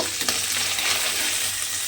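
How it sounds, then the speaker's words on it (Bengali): Prawns fry in hot oil in a home kitchen, giving a steady, dense sizzle with a faint crackle throughout. No one speaks. "চিংড়ি মাছটা এইভাবে একটু ভেজে নেব"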